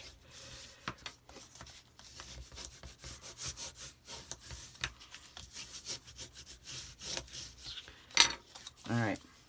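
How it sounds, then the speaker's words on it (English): Stuck-together paper pieces for a folio album are burnished by hand, producing quiet, repeated rubbing strokes, close by and soft, with a few brighter scrapes near the end. "Now you're going to want to burnish this pretty good. All right, give her a good burnish."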